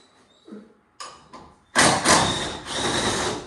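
Loose door on a 1997 Ford Mustang being handled in a garage: a couple of light knocks and clicks, then a heavy metallic clunk followed by a sustained rattling, scraping rush, close and fairly loud.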